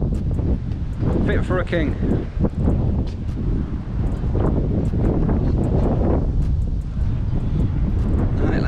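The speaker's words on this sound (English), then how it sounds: "It's extremely windy in this part" Strong gusty wind at Bolsover Castle in England buffets the microphone with loud low rumbling, while a person speaks briefly beneath it.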